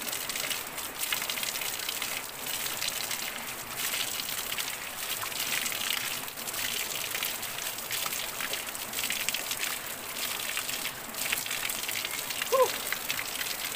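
Cold mountain water trickles steadily from a hose set up by residents for doing laundry beside a river in Cumba, Batangas City, a continuous close splattering patter with no talk over it.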